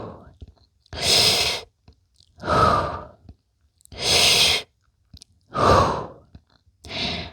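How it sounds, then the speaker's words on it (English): Five slow, deliberate breaths pushed out through the mouth during a fascial body exercise, each a loud, breathy whoosh lasting about a second, separated by short quiet gaps. "Now 3 breaths through the mouth."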